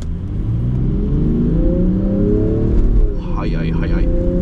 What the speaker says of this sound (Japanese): じゃあここから、雨の高速道路乗っていきたいと思いますが、ちょっとね加速してみましょうかね。